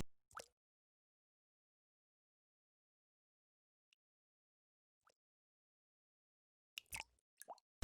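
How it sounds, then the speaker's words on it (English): Water drips from pointed dripstone in Minecraft: a few soft isolated plops spaced seconds apart in silence, with a small cluster of drops near the end. "So you can replace this with water and you can see it starts to drip water, and there's also sound"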